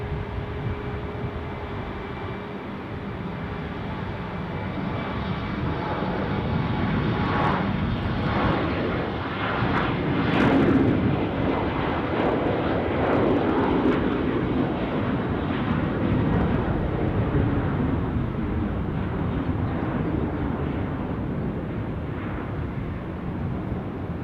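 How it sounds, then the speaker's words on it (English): A KLM airliner at Dusseldorf airport rolls for takeoff, its jet engines building into a steady, broad roar that swells to a peak midway and then holds, loud and continuous with no talking. "we've got one rolling. Sun Express perhaps? No, KLM."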